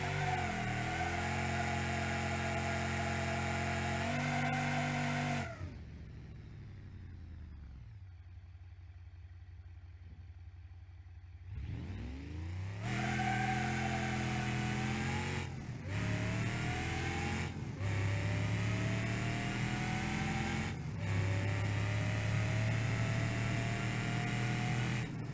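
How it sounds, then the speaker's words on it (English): An electric car doing a burnout in BeamNG.drive, a loud, sustained tonal whine that rises and falls in pitch, cuts out briefly, then resumes with short gaps between high-pitched surges. "So let's get the burnout in."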